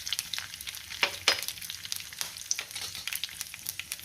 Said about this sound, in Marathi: त्यातच आपल्याला उडीद डाळ घालायची आहे, कढीपत्ता घालूया, हिंग घालायचा आहे